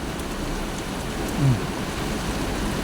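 Steady, dense rain hisses continuously, close and even, with no voices.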